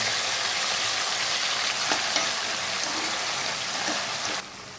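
Curry leaves and peanuts sizzle in hot oil for semiya upma, a dense steady crackling hiss close by with faint stirring taps, easing slightly near the end.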